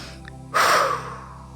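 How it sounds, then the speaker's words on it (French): A single forceful deep exhalation during a guided breathing exercise, a sudden close breathy rush that fades over about half a second. "Je libère tout à travers cette respiration profonde."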